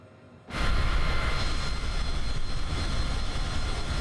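Airplane engine in Microsoft Flight Simulator, heard from outside the aircraft, cutting in abruptly after a brief quiet moment and then holding a loud, steady roaring drone.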